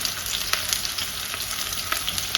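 Onions, curry leaves and two slit green chilies with salt fry for an egg dry roast, giving a dense, steady sizzle with light stirring taps, close and without speech.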